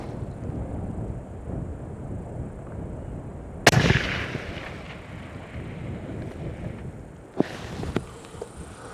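A single hunting rifle shot fired at an 800-yard target on an outdoor range, a sharp loud crack partway through over steady wind noise, followed later by a fainter second impulse.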